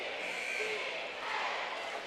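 A basketball crowd at a girls' and boys' school game keeps up a steady, distant murmur of many voices that swells slightly, with a faint squeak or two over the hum.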